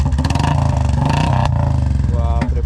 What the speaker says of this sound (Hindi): इनिशियल में बाइक कैसी आवाज़ करती है ये भी सुनाते हैं आपको